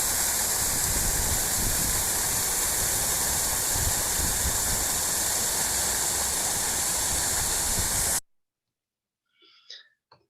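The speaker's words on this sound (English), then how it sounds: "beautiful waterfall. Quite powerful at times." A powerful garden waterfall roars in a steady, loud, dense rush for about eight seconds before cutting off abruptly into near silence, where a brief faint sound follows.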